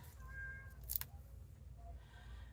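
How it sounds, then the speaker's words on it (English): A house cat cries at a closed door, with a few faint, thin meows spaced across a couple of seconds in a quiet room and a brief rustle partway through. "If y'all can hear my kitty cat, she's crying at the door."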